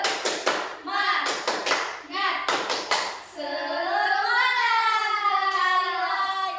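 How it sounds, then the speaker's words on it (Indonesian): Classroom children doing a rhythmic 'tepuk semangat' cheer clap: quick patterned bursts of clapping in two sets, then a group of young voices chanting loudly together over the end. "Ayo anak-anak semua tepuk semangat."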